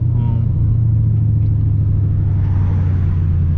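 Steady low exhaust drone and road rumble from a car with a muffled exhaust cruising along, a continuous deep hum with slight engine variation, close and fairly loud.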